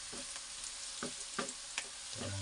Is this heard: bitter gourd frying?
yes